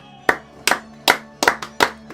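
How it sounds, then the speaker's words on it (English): An audience claps in sharp, loud single claps at a slow, slightly uneven rhythm, about six in a row with no talk over them. "Because I want you to clap for yourself."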